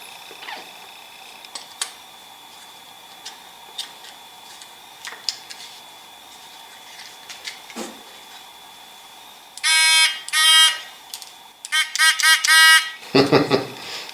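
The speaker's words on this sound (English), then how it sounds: "Here's my low primer warning alarm." The low primer warning alarm on a Dillon RL550B reloading press sounds in a few loud, shrill electronic buzzer bursts near the end, after scattered small ticks and clicks.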